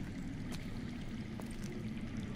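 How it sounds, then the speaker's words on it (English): Underground water flows in the Game of Thrones Telltale video game, a faint, steady murmur of running water with a few soft splashes and no speech. "That's water. I hear water. From underground."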